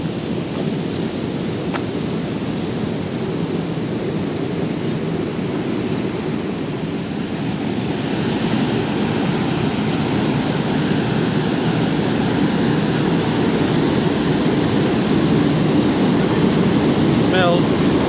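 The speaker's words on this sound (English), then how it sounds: "Here we are at the Tinaroo Dam wall, and it certainly is a dam wall. And spillway's running." Water pours over the Tinaroo Dam spillway in a steady, loud, broadband roar that continues throughout, with wind buffeting and only slight variation in intensity.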